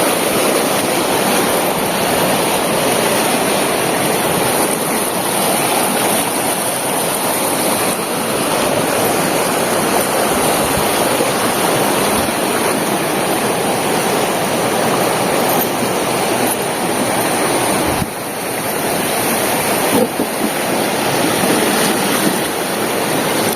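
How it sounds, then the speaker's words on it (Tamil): Floodwater rushing through a canal sluice gate at a swollen village tank, a powerful continuous roar of churning water, close and loud for the whole stretch, no speech. "இது ரெண்டாவது வாய்க்கா மடை பாருங்கள் எவ்வளோ தூரத்துக்கு தண்ணி போகுதுன்னு திட்டில் அடிச்சுட்டு போகுது தண்ணி"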